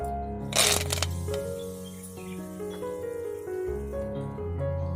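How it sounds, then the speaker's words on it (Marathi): Curry leaves go into hot oil heated in a pan and give a loud burst of crackling spatter, followed by a lower bubbling sizzle under a steady background hum. "तेल तापलेलं आहे त्याच्यात आम्ही कढीपत्ता घालूया"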